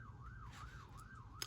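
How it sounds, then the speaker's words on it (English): A faint emergency siren outside wails in slow rising and falling sweeps, distant and steady under a low background hum. "Hey, siren."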